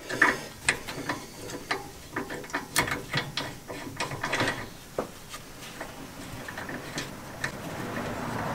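A jack ratchets in repeated clicking bursts, fairly close and distinct, as a camper van fitted with KONI shock absorbers is lowered.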